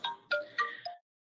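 An internet phone rings during a Zoom meeting with four quick bright electronic chime tones in a rising-and-falling pattern, clear and fairly close, then silence.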